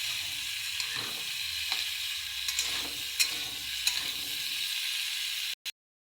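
Vegetables frying in a pan as they are stirred and salted, a steady close sizzle with a few scraping knocks of the spoon, cutting off abruptly near the end.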